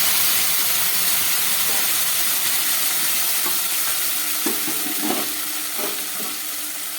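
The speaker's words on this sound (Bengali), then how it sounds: "এবারে আমি এই কড়ার মধ্যে দিয়ে দিচ্ছি ডালটা।" Lentils for a mixed dal go into hot oil with ground ginger in a wok, setting off a loud hissing sizzle that fades slightly, with a few stirring scrapes near the end and no talk.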